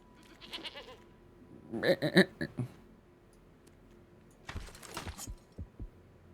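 A goat bleats in a digital card game, Duskmourn, with two short clusters of wavering animal cries separated by a quiet gap, fairly close and clear.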